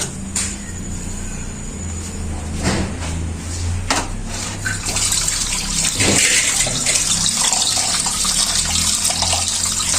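Chicken parts washed under running tap water in a home kitchen, a steady broadband rush of flow with occasional splashes and clatters, rising a little louder in the second half.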